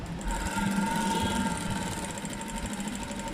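A sewing machine stitches an underskirt with a continuous, fast, even whirring hum, close and alone.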